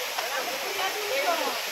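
Waterfall roaring as a steady broadband rush, close and continuous, with a voice talking over it.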